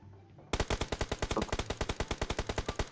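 Sustained automatic gunfire in a battle royale video game: after a quiet half-second, a fast, even rattle of about twenty loud, close shots at a steady rhythm, with no talk over it.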